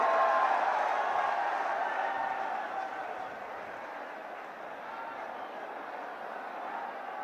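Applause and crowd noise from a political rally in Mewat welcoming Rahul Gandhi, a steady wash of many hands clapping that is strongest at first and then eases slightly to a sustained roar.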